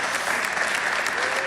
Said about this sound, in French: On peut-tu applaudir le Seigneur?